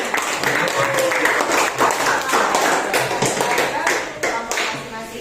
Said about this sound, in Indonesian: Berikan aplaus bagi kelompok 1